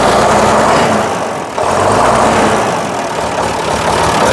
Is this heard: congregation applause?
no